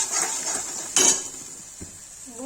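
Cinnamon paste with salt being roasted and stirred in a pan for white cauliflower malai korma: soft steady scraping hiss with a sharp utensil clink against the pan near the one-second mark, close and moderately loud.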